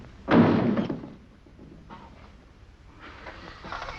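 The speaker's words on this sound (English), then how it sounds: "And don't slam the door as you go out." A door slams shut with a loud, close thud, followed by a few seconds of quieter room sounds and faint shuffling in an old Western film scene.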